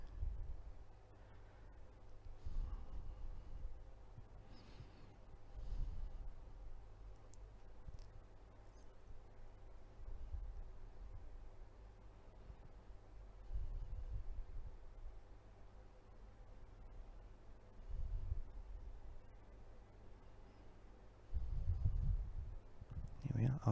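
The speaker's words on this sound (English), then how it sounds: "just to show you it going through the various rinses and ultrasonic settings and drying" Ultrasonic watch cleaning machine running a rinse cycle, sped up, giving a low throbbing hum with periodic louder pulses and surges over a faint noisy background.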